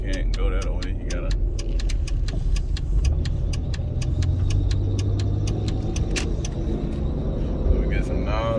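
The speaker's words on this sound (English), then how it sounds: "Y'all hear that belt squealing?" Chevrolet Malibu picked up at an auto auction, its engine running steadily with a squealing belt and sharp ticking clicks on top, while people talk nearby.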